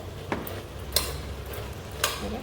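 A spoon stirs dill and fenugreek leaf pulao with coconut milk, made without onion or garlic, giving a few soft scraping strokes against the pot over a steady low cooking hum.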